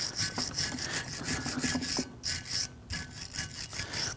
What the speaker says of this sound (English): You can use a bristle brush to do something like this.